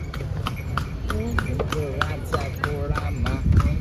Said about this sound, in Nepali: ल घोडामा त म चढेँ रानीलाई लिन जान लागेको